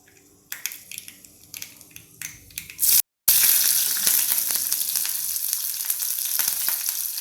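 Curry leaves and chili pieces go into hot oil for a Bengali khichuri tempering. Some scattered crackles come first, then after a brief gap a loud, sudden, continuous sizzle that stays close and strong.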